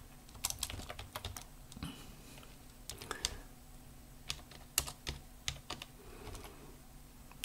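Someone typing an email address on a computer keyboard: quiet, close, irregular bursts of key clicks with short pauses between groups, no talking.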